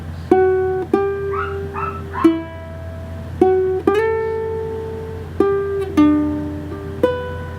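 A ukulele plucked fingerstyle picks out a melody, about eight clean single notes and double stops ringing out and fading one after another, loud and close, with no voice.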